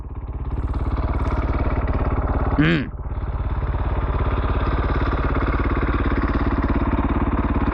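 A KTM motorcycle engine idling close by, a steady rapid low thumping pulse that dips briefly under a short revving or clattering burst before settling back into an even idle.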